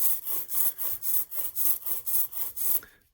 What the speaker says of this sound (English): That's the sound of ink ready to go onto a block.